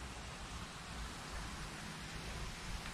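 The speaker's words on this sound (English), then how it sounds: "it's raining at the same time" Steady rain hisses as a continuous, even wash of noise with a low rumble underneath, no voices, in Lonavala, India.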